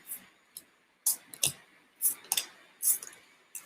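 Tarot cards, a recently edged deck, being shuffled by hand: sharp bursts of clicking and riffling come in irregular clusters, close up against a quiet background.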